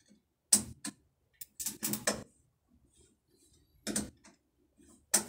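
A screwdriver tightens a metal hose clamp around a metal nozzle on a garden hose, giving scattered creaks and clicks in short irregular bursts, close by and quiet, with silent gaps between them.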